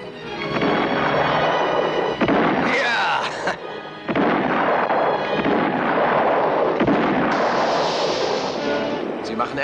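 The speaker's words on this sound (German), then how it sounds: "Macht die Kanonen zum Feuern bereit." Cannons aboard a sailing ship firing in an adventure film battle, loud booming blasts and rolling reports layered over one another, with shouting voices mixed in.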